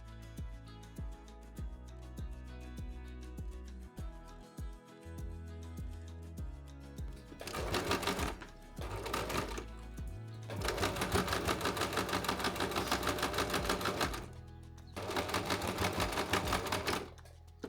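A sewing machine stitches down a folded fabric edge on a scrap-fabric summer top, running in several loud bursts of rapid, even needle clatter from about 7 to 17 seconds, after a quieter stretch of handling and faint background music.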